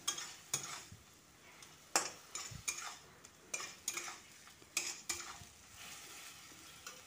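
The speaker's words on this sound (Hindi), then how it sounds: "सभी मसाले साथ में टमाटर प्यूरी सबको अच्छी तरह से भून लेंगे।" Spices and tomato puree for egg biryani are sautéed in a pan, with soft background sizzle broken by repeated sharp clinks and scrapes of a spoon stirring, quiet and close.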